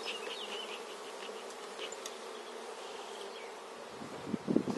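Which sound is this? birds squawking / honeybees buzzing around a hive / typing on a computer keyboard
honeybees buzzing around a hive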